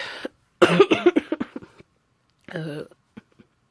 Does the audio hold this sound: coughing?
yes